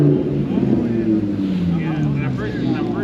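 A Lamborghini engine rumbles nearby at a car meet, a loud continuous low drone with a rising tone as it moves, heard under people talking.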